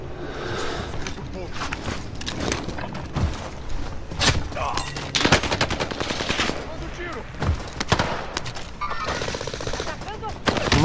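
Rapid bursts of automatic gunfire and single shots from a Rebirth trios match in a video game, crackling loudly and repeatedly through the whole stretch, with players talking over the shooting.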